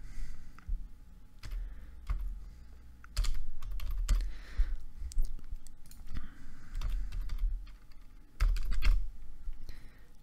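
Fingers type text on a computer keyboard in uneven bursts of quick, close clicking keystrokes, separated by short pauses, with no talking.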